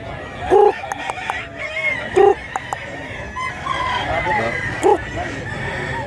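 Roosters crow and cluck at a poultry sale in Mantalungon, Cebu, where a year-old black Macri cock is offered. Three short, loud calls stand out over a busy yard murmur with voices.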